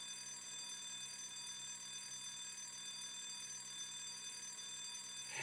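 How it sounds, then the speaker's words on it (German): An alarm clock rings with a steady, faint electronic tone made of several sustained high pitches. It continues evenly throughout, without pauses, over a quiet background. "Oh, dieses Gebimmel. Das könnte ein Wecker sein"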